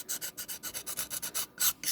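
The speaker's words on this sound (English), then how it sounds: "So you're just going to smooth over the edges here." The edges of a large free-standing wooden decoupage block are rubbed smooth with quick, regular back-and-forth sanding strokes, about a dozen close, soft rasping passes in a steady rhythm with a brief pause near the end.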